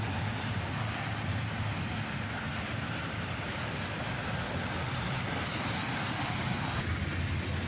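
A long freight train loaded with Amazon containers rolls past, a steady broadband rumble and rush of wheels on rails that holds evenly throughout.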